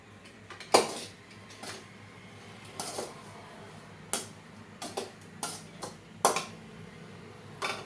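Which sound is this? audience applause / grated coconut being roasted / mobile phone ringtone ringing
grated coconut being roasted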